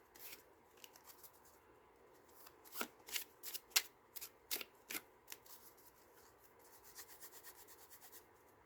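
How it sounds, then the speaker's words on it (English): Playing cards are shuffled with quick riffling bursts and rapid flutters, close and fairly quiet, with no talking. "go ahead and shuffle the cards"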